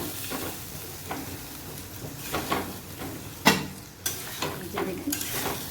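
Chicken frying in a pan while being stirred, a soft continuous sizzle broken by scraping stir strokes and a few sharper clinks of the utensil, close and fairly quiet with no talk.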